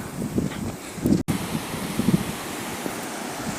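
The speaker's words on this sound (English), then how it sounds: "Starting to get a little windy and chilly as well" Gusty wind buffets the microphone on a mountain gorge trail, a rough, rumbling rush that swells and dips with a brief cut-out, close and steady with no talk.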